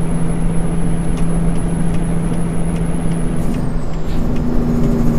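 Air brakes on a heavy truck in American Truck Simulator give a long, steady hiss under a loud droning engine rumble. A high whine holds, then slides downward near the end.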